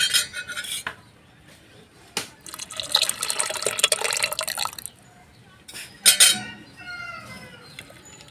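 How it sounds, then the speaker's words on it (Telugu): Set-aside water poured into soft mashed moong dal and stirred, with splashing pours and scraping spoon-on-pot clinks in separate bursts, no speech. "పక్కన తీసి పెట్టుకున్న వాటర్ని ఇప్పుడు ఈ పప్పులో పోసేసుకొని కలిపేసుకుందాం"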